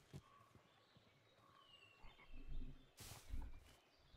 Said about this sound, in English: I hear frogs, but I don't see any frogs.